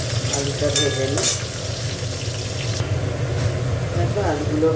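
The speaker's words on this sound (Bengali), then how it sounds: "আলুটা ভেজে নিই।" Potatoes sizzle steadily in hot oil in a pan, added after cauliflower was fried for a cauliflower-potato curry; a continuous close crackle fills the whole stretch with faint kitchen clatter.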